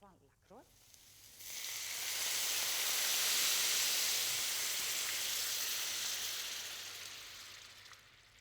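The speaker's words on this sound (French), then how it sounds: "Mouillez les légumes avec du fond de veau Lacroix." Veal stock poured over vegetables in a hot pan with stuck-on browned bits, bursting into a loud, sustained sizzle and hiss that swells, holds for several seconds, then slowly fades.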